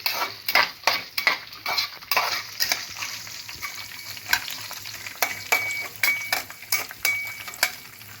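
Chicken frying in oil in a pan for a semi gravy, a steady close sizzle broken by repeated sharp scrapes and clicks of a utensil stirring against the metal, with no one speaking.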